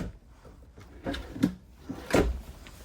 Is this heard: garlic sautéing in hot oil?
no